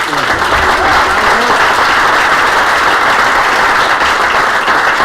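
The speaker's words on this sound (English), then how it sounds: "let's once again give Nestle another great round of applause" Audience applause honoring Nestle USA at its headquarters-move announcement in Arlington: a loud, dense, sustained wash of clapping from a large crowd, unbroken for five seconds with faint voices mixed in.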